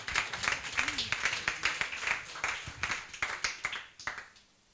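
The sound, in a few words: congregation applauding Jesus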